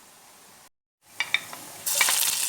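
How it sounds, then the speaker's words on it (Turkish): Green peppers dropped into hot olive oil in a pan, a short pause followed by a few pops and then a bright, steady sizzle that swells and holds. "Yanan yağımın içine biberimi attım."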